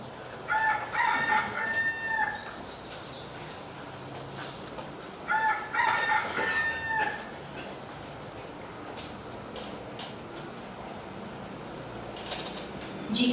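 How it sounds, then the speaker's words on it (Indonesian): A rooster crows repeatedly outdoors, two long clear calls followed by a fainter third, with background ambience between them. "seketika itu juga berkokoklah ayam"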